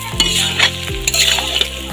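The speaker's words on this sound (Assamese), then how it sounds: "এতিয়া এইখিনি আৰু অলপ সময় 2 মিনিটমান সময় মই ফ্ৰাই কৰিম" Duck meat with coriander powder and garam masala frying in a wok, a loud continuous sizzle with stirring scrapes and clinks of the spatula, close up and with no voices.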